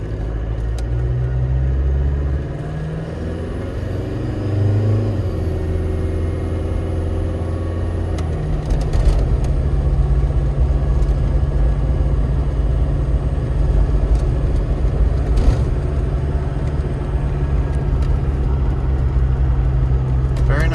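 Cabin of a 1995 Range Rover County diesel as it accelerates, a steady low engine drone and rumble that swells after a brief easing, with body-panel vibration and someone talking throughout.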